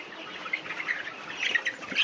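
Chickens on a poultry farm give faint, scattered clucks and squawks at close range, soft and brief against a quiet shed background.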